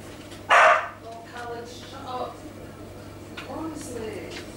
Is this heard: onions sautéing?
no